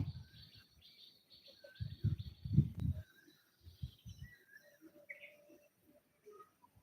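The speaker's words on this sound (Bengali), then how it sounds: "গ্রামে পাখি ডাক শোনা যাচ্ছে" Birds call faintly in a quiet village setting, with a few thin, scattered chirps over low background noise and some soft thumps near the start.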